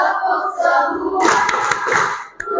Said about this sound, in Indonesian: bertepuk semua